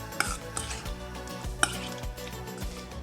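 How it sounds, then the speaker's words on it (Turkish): Cubed chicken fillet is tossed with a marinade sauce in a bowl for Turkish chicken shish: soft wet stirring and squelching, broken by a few sharp clinks of a utensil against the bowl. "Sosumla harmanlıyorum"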